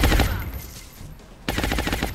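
Suppressing gunfire aimed at an enemy in the video game XCOM: Enemy Within: a loud, rapid automatic burst at the start, a brief lull, then a second dense crackling volley for the rest, close and without talk.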